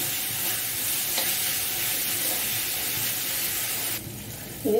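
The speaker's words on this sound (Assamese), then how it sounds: "এতিয়া 5-10 মিনিট ভাজিম" Chili powder fries with a constant close hiss and sizzle in a pan, stirred steadily, before the sound drops briefly near the end.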